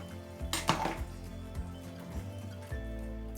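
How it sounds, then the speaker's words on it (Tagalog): Eggplant is stirred into a pot of Filipino sinigang chicken soup, with a few short metallic clatters and scrapes of a utensil against the pot, close and moderately loud. "Haluin ko lang po."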